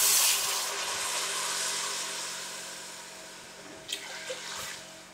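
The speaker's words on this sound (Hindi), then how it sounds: "अब इसमें डालना है पानी।" Water pours steadily into a pot of rice, a continuous rushing splash that slowly softens, with a couple of faint clinks near the end.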